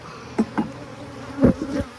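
Honeybees buzz around a hive frame during winter preparation, a close hum with several louder passes as individual bees fly near, and no talking.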